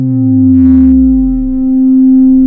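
Casio XW-P1 synth oscillator holding a steady tone while the mod wheel bends its pitch by an octave, with sweeping harmonics sliding smoothly and a brief buzzy burst, loud and alone.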